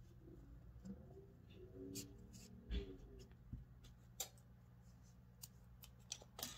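Scissors snip off leftover crochet yarn on a flower pot coaster, a few soft, quick clicks and snips spread out over a quiet, close background.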